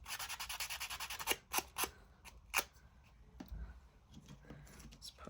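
Strips of tape ripped quickly off a card during paper crafting, a few sharp close tearing rasps after soft rubbing and rustling of paper, quiet overall.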